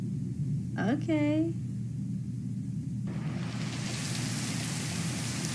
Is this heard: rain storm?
yes